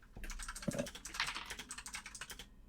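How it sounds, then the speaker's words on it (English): Rapid, steady clatter of computer keyboard typing from a player during a tabletop Dungeons & Dragons session, continuous and fairly close, with faint background murmur. "Ian, I hear you typing over there."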